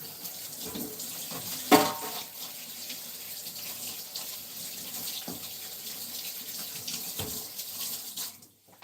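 Tap water runs steadily into a sink while a small star piping tip is rinsed before switching to white buttercream, a close, continuous splashing hiss with a brief louder gush near the start and no talking.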